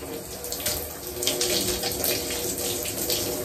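Shower water runs steadily during a body wash with a loofah, a bright hissing spray with faint splashing pulses, close and continuous.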